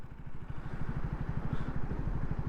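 A motorcycle ridden on a road near Thalassery gives a steady, close, rapidly pulsing engine putter that holds an even loudness throughout, with no voices.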